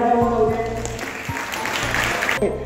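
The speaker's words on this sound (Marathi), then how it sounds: "तर सरांसाठी आपण जोरदार टाळ्या वाजवूया" Applause for a professor at an English academy prize distribution ceremony rises as a burst of clapping midway. A voice is speaking over it, and sustained tones are heard before and after.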